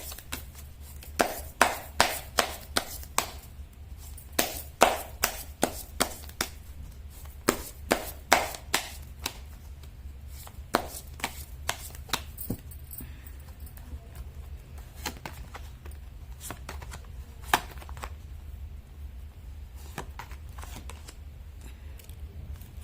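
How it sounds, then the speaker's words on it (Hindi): Tarot cards shuffled by hand, a long run of crisp riffling snaps and slaps at close range, coming in irregular bursts over a steady low hum, with no talking. "मैं कर लेती हूँ कार्ड की शफलिंग।"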